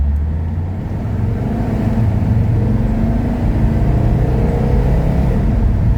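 A Mercedes 300CD diesel accelerates from 0 to 60 on a back road, heard from inside the cabin as a steady, loud engine drone with rising pitch and road rumble, no speech.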